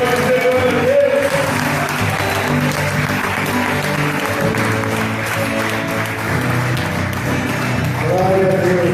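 A church congregation breaks into loud, sustained applause and cheering that fills the room for several seconds, with voices mixed in throughout.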